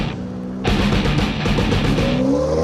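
A 2004 Lotus Elise sports car idles, then its engine swells into a loud, rising rev as it pulls away, close up and without any talk.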